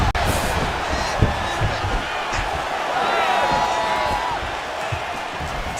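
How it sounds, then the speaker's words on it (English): A large crowd at a UFC heavyweight fight roars and murmurs throughout, swelling with cheers and whoops, with a sharp thud near the start. "And you hear the crowd react every time."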